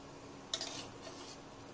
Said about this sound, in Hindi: इसको चलाते भी जाना है ये तो ये चिपक जाएगा नीचे जाके बैठ जाएगा